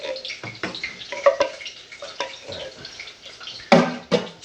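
Tap water splashes and sloshes into an emptied tomato can at a sink, irregular close splashes with a couple of sharper sloshes near the end.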